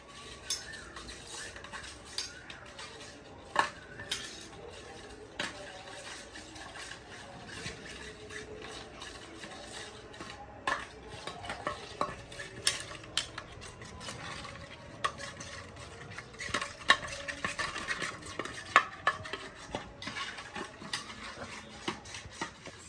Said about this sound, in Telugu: ఇప్పుడు మనం మిక్స్ చేసుకోవాలి ఫ్రెండ్స్